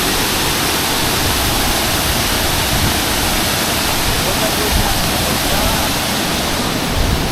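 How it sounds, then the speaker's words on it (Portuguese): A waterfall near the town of Apuí in the Amazon rainforest roars as a dense, loud, continuous rush of falling water, close by and unbroken throughout. "cachoeira aqui em Apuí, a apenas 2 quilômetros"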